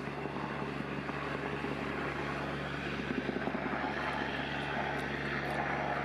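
A steady droning engine of a propeller aircraft passing over a waterway near Culatra, continuous and moderately distant, with no talking.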